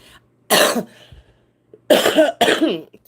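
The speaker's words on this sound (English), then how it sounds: "Still coughing." Several harsh coughs: one burst, a pause with faint shuffling, then two more close together, loud and near.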